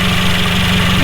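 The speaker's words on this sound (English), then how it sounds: "Here is the car, everything nice and smooth, engine working fine," A Mercedes C300 engine idles smoothly and steadily, close and loud, a continuous low hum with fine even pulsing and no voices over it.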